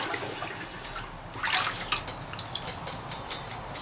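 A hot cast lead piece is dropped into water, giving a hissing, bubbling sizzle that swells sharply then fades into scattered drips and pops.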